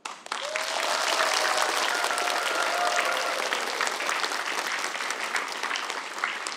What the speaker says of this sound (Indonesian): Tepuk tangannya meriah sekali lagi buat mereka bertiga